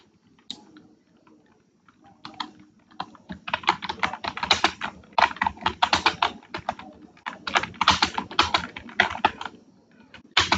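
Someone types on a computer keyboard, starting with a few scattered taps and then breaking into quick, close bursts of clicking with short pauses between them. No one speaks.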